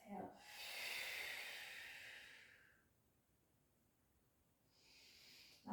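A long, deep breath drawn in and let out during a Pilates core session, close and soft, fading into quiet before a second breath begins.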